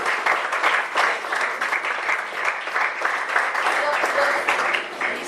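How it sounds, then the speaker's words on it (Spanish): A church congress congregation breaks into sustained applause for the King of Kings, steady dense clapping with voices and cheers mixed in throughout. "Denle palmas de aplauso al Rey de Reyes."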